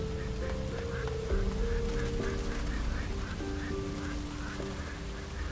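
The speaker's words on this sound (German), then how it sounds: "Enten überall." Ducks in the video game Risen 3: Titan Lords quack repeatedly over a steady ambient game background, several nasal calls spaced through the stretch at moderate loudness.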